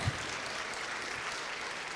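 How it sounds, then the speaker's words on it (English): A theater audience at North Park applauds after an Avengers: Endgame Q&A with screenwriter Christopher Markus, brief even clapping heard softly, somewhat distant and steady. "Give Thanks, him a Ray. nice round of applause"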